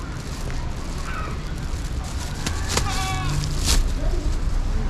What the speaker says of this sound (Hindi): बकरी भी आवाज़ निकाल रही है किसी वजह से, पता नहीं।